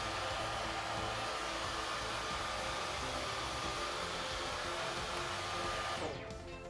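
A Dyson V15 Detect cordless vacuum cleaner running, a steady, loud high-pitched whine and airflow hum held constant before winding down at the end.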